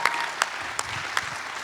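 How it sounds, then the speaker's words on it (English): An audience gives a round of applause for costume contest winners, steady clapping with a few sharper hand claps standing out at regular intervals. "Round of applause for that."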